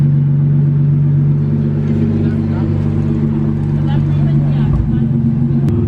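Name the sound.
BMW M4 F82 engine starting up and revving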